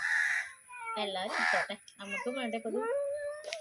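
Harsh crow caws ring out among voices talking nearby, several calls at uneven intervals.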